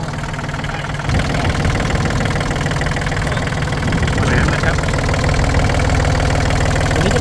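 A 2021 John Deere 3036E tractor with a Yanmar engine block runs steadily, a loud, close, even mechanical drone with slight knocking texture that grows a bit louder after the first second.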